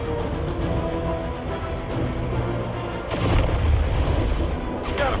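Shooting in Marvel's Guardians of the Galaxy: a steady bed of booming, rumbling gunfire and blasts that swells louder for the last couple of seconds.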